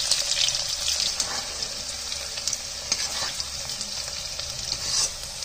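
Onion, garlic, bay leaf, ginger and chilies frying in oil for a potato-tomato tahri, a continuous bright sizzle with faint stirring scrapes, close and steady, and no voices.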